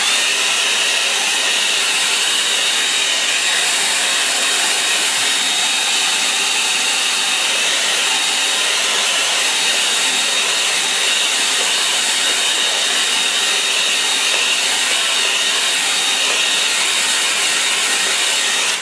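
A hair dryer blows steadily on a wet-in-wet watercolour painting on Arches paper, a loud, continuous broadband whoosh with a constant tone that runs unbroken throughout, with no talking.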